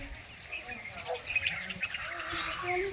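A small bird, a sparrow, gives quick high chirps close by, a string of short tweets over a faint background murmur.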